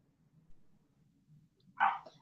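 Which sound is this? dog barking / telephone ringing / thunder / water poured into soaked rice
dog barking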